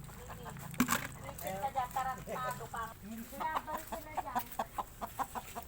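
Repeated short clucks from a chicken close by, with people talking and laughing over them.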